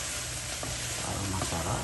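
Lechon and bamboo shoot adobo being stirred in a hot pan, a steady soft sizzle with faint scraping of the spoon, continuous and close.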